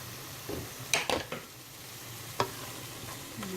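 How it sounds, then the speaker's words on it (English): Jalapeno peppers sautéing in a pan with tomatoes, onions and bell peppers, giving a soft background sizzle broken by a few brief clinks and scrapes of a utensil stirring, close and fairly quiet. "I'm going to add the jalapeno peppers, and I'm just going to saute them in there for about a minute or 2."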